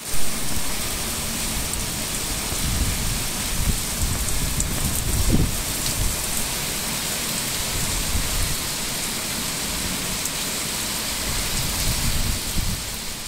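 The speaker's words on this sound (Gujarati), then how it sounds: "દેવભૂમિ દ્વારકા જિલ્લામાં તોફાની વરસાદ પડી રહ્યો છે." Stormy heavy rain pours steadily in Devbhumi Dwarka district, a dense continuous hiss with a low rumble of thunder swelling midway, loud and close throughout.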